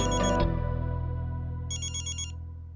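A phone ringtone sounds up close as a loud electronic melody with bright repeating tones, a short pause in the middle, then the tune resumes, heard alone over a sustained musical background.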